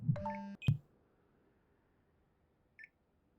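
A phone in the Scene Investigators video game gives a short beeping sequence of tones, followed by a single faint beep near the end, with no talk.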